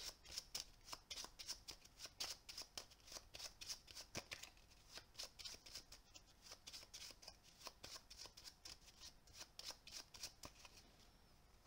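Cards from the Marvel Champions card game being shuffled up close, a quiet, continuous flurry of crisp riffling snaps in quick succession throughout.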